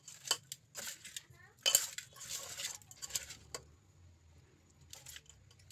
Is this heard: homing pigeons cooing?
no